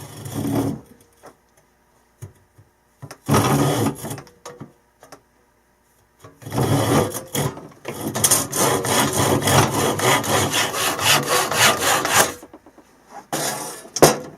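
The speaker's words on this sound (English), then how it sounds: "we're just going to go ahead and cut this off so that we have a piece that's going to go into the handle" Hand saw cutting a piece off a pole to make a GoPro handle, close rasping strokes in uneven bursts with pauses, then a long stretch of fast sawing near the end.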